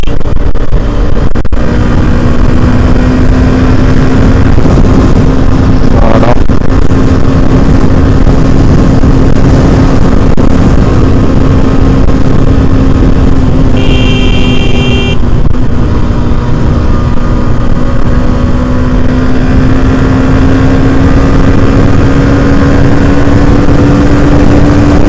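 A Hero Xtreme 125R motorcycle pulls hard in fourth gear, its engine note holding loud and close while rising slowly in pitch under strong wind rush, with a short high chirp partway through.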